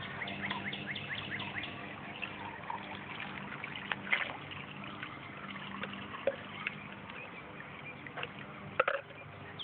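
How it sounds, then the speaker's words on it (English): Water dribbles from holes in the bottom of a pool toy, a gentle, uneven trickle with occasional small splashy drips, while birds chirp softly in the background. "This one has holes in the bottom."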